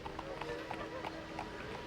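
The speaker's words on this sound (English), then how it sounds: "There were horse-drawn carriages click-clacking down cobblestone streets" Horse-drawn carriage hooves clip-clopping on cobblestone streets, a regular trotting rhythm of light hoof strikes, moderately faint beneath a steady background.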